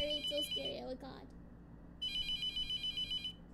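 In The Mortuary Assistant, a phone's electronic ring sounds in two bursts, the first overlapped by a brief voice and the second ringing alone over low game ambience.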